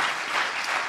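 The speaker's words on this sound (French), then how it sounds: "Allez, on applaudit encore." A burst of crowd applause, dense and steady clapping from many hands filling the short moment.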